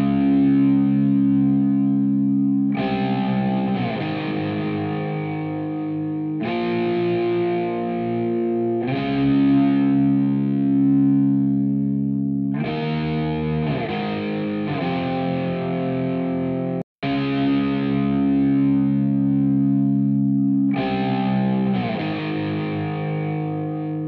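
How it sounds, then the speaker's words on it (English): Electric guitar played through a psych delay effect in Guitar Rig for a hip hop beat: sustained distorted chords and melodic phrases that repeat in delayed echoes, clear and upfront with a brief dropout near the end. "It's got this cool psych delay."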